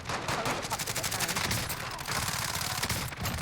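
RAM-7 assault rifle fired in the video game Warzone, rapid full-auto bursts of loud, sharp cracks in a fast rhythm, with brief pauses between strings of shots.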